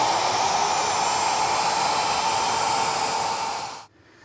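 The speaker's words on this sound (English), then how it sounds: "I'm going to use a very small radius roundover bit" A router spinning a small 1/8-inch radius roundover bit eases the corners of a carved wooden sign, giving a loud, steady high-pitched whine that runs unbroken for about four seconds and then cuts off abruptly.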